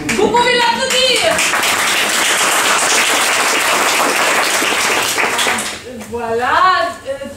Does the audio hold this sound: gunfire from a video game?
no